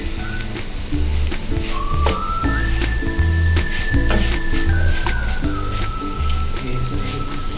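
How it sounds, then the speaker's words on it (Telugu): Leftover chapati pieces fry in oil over a low flame, giving a steady, dense sizzle with light crackling pops throughout, close and even, joined by a faint thin whistling tone in the background. "మనం కట్ చేసుకున్న ఈ చపాతీ ముక్కల్ని వేసుకుందాము. స్టవ్ సిమ్లో పెట్టుకునే వేయించుకోవాలి."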